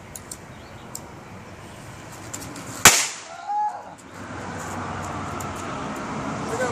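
A firecracker set off among friends outdoors pops with one sharp crack near the middle, followed by a short crackling burst, over steady background traffic-like noise.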